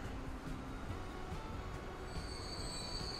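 Train in the video game Transport Fever 2, its wheels squealing with a high, sustained screech over a steady rumble of rolling rail cars, faint and continuous.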